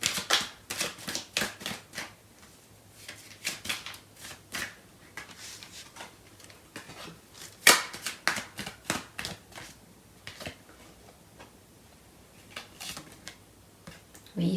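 Tarot cards being shuffled by hand, crisp riffles and flicks in short irregular bursts, close and fairly soft, with quiet pauses between them and no talk over them.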